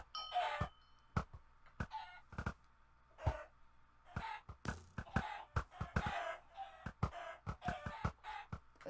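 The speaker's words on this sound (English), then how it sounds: "So basically chickens are going to be in the air, and you have to shoot them." Chickens in the Minecraft Bawk Bawk Battles minigame: a rapid series of sharp, punchy game sound effects, clucks and squawks over a busy background, loud and close.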